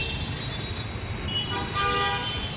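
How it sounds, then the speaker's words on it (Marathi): Busy street traffic in Lalbaug market, Mumbai, with car horns tooting repeatedly over a steady roar of engines, the horns sharpening near the end. "आवाज नाही, इकडे ट्रॅफिक खूप है।"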